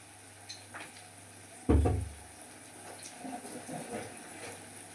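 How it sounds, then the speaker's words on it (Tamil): Water used to rinse a mixer jar is poured into a spicy chutney in a kitchen, landing as one sudden splash that trails into a softer swish and bubbling. "இப்போ எல்லாத்தையுமே சேர்த்துட்டு மிக்ஸி கழுவுன தண்ணி மட்டும் கொஞ்சோல சேர்த்துக்குவோம்."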